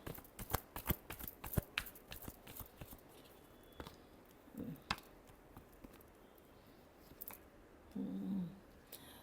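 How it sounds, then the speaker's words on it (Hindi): Tarot cards are shuffled in a quick flurry of crisp flicks and taps, then slower scattered snaps, ending with a soft muffled rustle. The sound is close and fairly quiet, with no speech. "Last shuffle."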